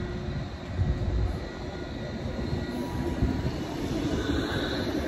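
A passenger train on a Grand River Transit route rolls steadily past nearby, a continuous loud rumble of wheels and cars with a faint squeal and some wind buffeting, no talking.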